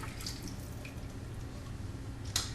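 Water carrying coffee grounds trickles through a paper coffee filter set in a funnel while a French press is cleaned, a soft continuous drip and pour, faint and close, ending in a brief splash.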